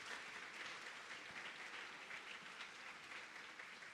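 An audience at a symposium on animal experimentation applauds a doctor being honoured with a gift, producing a soft, continuous rustle of many clapping hands that sounds distant and faint, steady throughout, with no speech over it.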